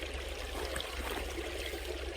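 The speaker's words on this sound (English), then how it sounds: "what better place to do it than by a beautiful stream, babbling brook" A babbling brook runs outdoors, its water a soft, steady, continuous rushing burble, faint and unbroken, with no voices.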